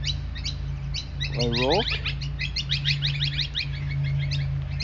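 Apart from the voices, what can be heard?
birds singing in a cemetery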